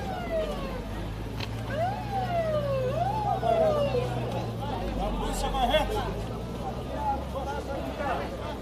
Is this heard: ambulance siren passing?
yes